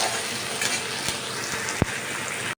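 Chopped onion and tomato frying in a pan for a Bengali fish curry, a steady broadband sizzle with a sharp clink of a utensil near the end, no voices.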